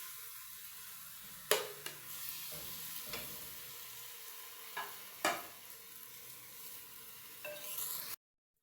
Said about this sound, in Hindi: ये तकरीबन 1 किलो चिकन है और इसको हमने फ्राई करना है जब तक ये चिकन अपना कलर चेंज ना कर दे।